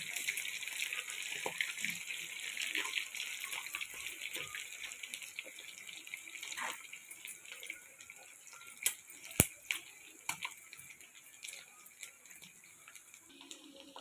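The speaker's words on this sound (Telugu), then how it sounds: "ఇలా ఫ్రై అవుతున్నాయి చూడండి చికెను." Chicken pieces fry in a kadai for chicken pickle, giving a steady, fairly faint sizzle and crackle with no talking.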